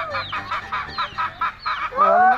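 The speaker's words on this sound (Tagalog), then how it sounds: "Ang pato dito mga guys." Ducks on a farm quacking in a quick run of about eight rhythmic calls, close and loud, ending in a longer, higher squawk.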